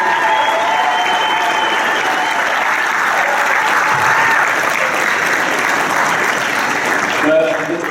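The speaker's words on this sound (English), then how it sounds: "if we can all give a quick round of applause to Kathy Conlon, who's been at all 38." Loud, dense applause fills an awards ceremony hall at an annual valor awards event, continuous and close, with a faint hum of voices mixed in before it begins to fade at the end.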